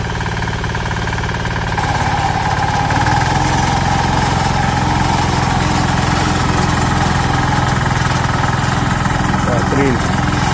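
Sraja power weeder engine running outdoors, a loud continuous mechanical chug that steps up in intensity early on, with voices talking over it.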